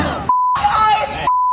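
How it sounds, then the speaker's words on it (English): Steady 1 kHz censor bleeps cover profanity in a radio show segment, two long tones bracketing a burst of muffled, garbled voice, loud and close. "it was just nonstop beeps"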